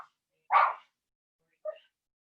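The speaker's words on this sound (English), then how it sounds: "the relaxing music of my dogs barking" Dogs barking twice in a quiet room, a sharp loud bark followed a second later by a softer, shorter yip.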